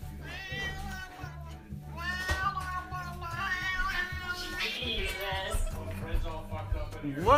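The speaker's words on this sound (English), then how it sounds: "Crazy cat." A cat meows repeatedly in rising, wavering cries up close, over a steady low background tone and muffled voices.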